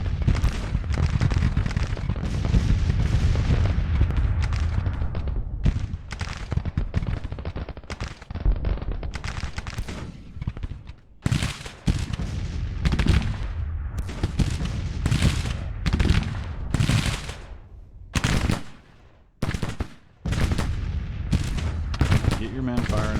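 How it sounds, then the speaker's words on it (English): Civil War battle in the Grand Tactician strategy game: dense crackling musket volleys and heavy artillery booms roll on continuously, then break into separate loud bursts and thuds, with a voice talking over parts of it. "Get your men firing at long range, Huger."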